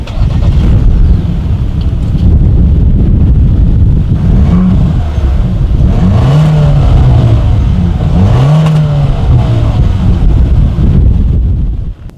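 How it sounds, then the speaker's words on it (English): A 2019 Ford Escape's exhaust drones loudly and steadily with rising and falling revs, rumbling low and close, with wind buffeting throughout. "As always, here is that exhaust clip."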